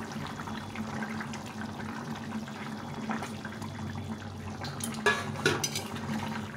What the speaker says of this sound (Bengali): ঝোলটা ফুটে গেছে, এখন ডিমগুলো ছেড়ে দেবো।